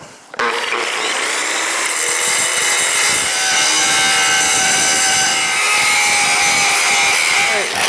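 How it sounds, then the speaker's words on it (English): Metal bevels on a root ripper are ground clean for welding, a loud, harsh, continuous grinding whine that starts abruptly after a brief moment of quiet and holds steady to the end. "Let the grinding marathon begin."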